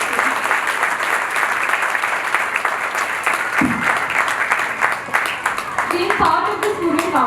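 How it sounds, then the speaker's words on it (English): Audience applause for teachers at a school investiture ceremony, a steady dense clapping from a crowd lasting throughout, with some voices mixed in near the end. "can we have a round of applause for them?"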